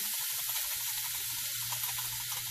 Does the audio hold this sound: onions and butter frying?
yes